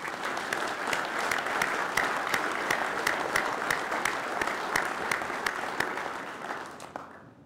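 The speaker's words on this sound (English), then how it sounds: "give a round of applause and just appreciate him for what he's been doing" Audience at a university major announcement breaks into sustained applause, a dense steady wash of many hands clapping that holds for several seconds before tapering off near the end.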